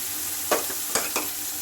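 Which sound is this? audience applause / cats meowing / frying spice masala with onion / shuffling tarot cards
frying spice masala with onion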